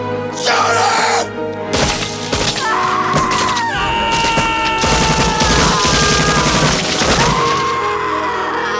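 Gunfire in a scene from the 1989 war film Casualties of War, loud rapid bursts of shots mixed with shouting and screaming voices.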